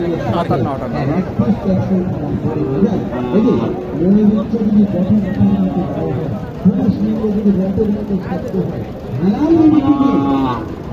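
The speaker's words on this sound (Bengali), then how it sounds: "এখানে একটা দেশি গরু আছে, চমৎকার দেশি গরু" Native Bangladeshi cattle low repeatedly at a busy rural cattle market, several drawn-out moos rising over a constant hubbub of people talking and bargaining nearby.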